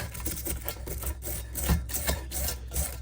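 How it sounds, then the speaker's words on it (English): A wire brush scrubs grease off the kingpin area of a 1930 Ford, making steady, rhythmic close-up scraping strokes with no talking. "then I just come with the wire brush and try to get a little bit more off"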